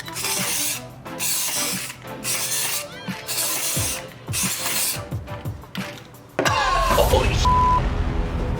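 Aerosol T-shirt spray paint hisses from a can in repeated bursts with brief pauses between them, then gives way to a louder, steadier rushing noise near the end.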